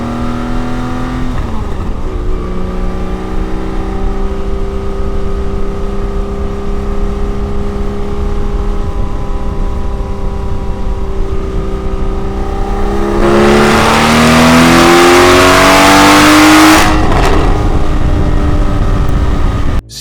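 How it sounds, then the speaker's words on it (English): A 545 hp Porsche Cayman GT4 rumbles loudly while driving, its deep engine note holding steady through a long cruise, then rising sharply as it revs and accelerates before the throttle lifts. "There's a deep, almost air-cooled 70s, 80s race car timbre to it."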